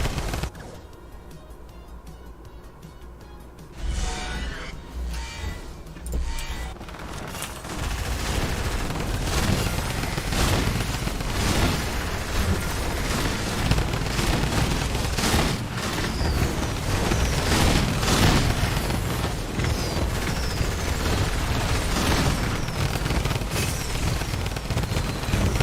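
Fortnite Creative competitive match: a dense barrage of gunfire and explosive booms, including an impulse grenade, rolls on continuously and loudly after a quieter opening few seconds.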